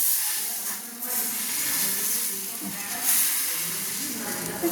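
Patishapta batter sizzles on an oiled tawa, a steady close bright hiss that holds throughout with slight swells.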